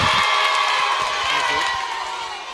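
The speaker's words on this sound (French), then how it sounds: "Des applaudissements." Audience at a workshop session in Dapaong clapping and cheering to congratulate someone, a dense continuous wash of applause with shouts, loud and steady, tapering slightly at the end.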